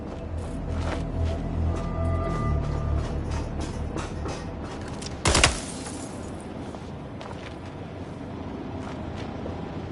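A single loud gunshot cracks out in a dark video game scene, a short sharp burst over a steady ambient hum and mechanical background.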